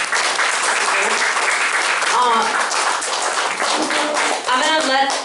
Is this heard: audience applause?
yes